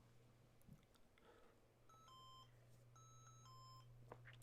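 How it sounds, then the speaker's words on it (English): Two short electronic APRS message beep sequences from a Yaesu FT2DR radio, each a quick run of tonal pips, over a steady low hum in a quiet room. "So those are just the APRS beeps telling you, hey, yeah, you got a message."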